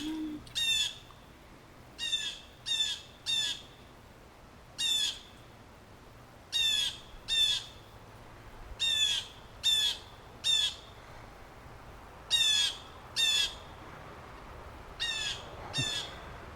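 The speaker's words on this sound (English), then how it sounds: "That's a blue jay." A series of harsh, repeated bird calls from a blue jay, sounding in short bursts of two or three across a quiet outdoor background.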